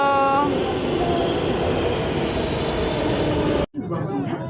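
A Namma Metro train pulls into the platform with a loud, steady rumble and high whine that holds constant and then cuts off abruptly, leaving quieter station noise behind.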